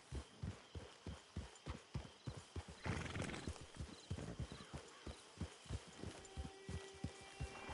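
Hooves clip-clop in a steady walking rhythm from a horse in the video game Red Dead Redemption 2, close and evenly spaced, with a brief whinny or snort breaking in partway through.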